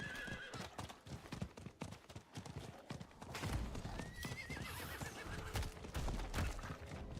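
Horse mount in the video game Diablo IV, rapid rhythmic hoofbeats clip-clopping close and steady, with a short whinny partway through over game background.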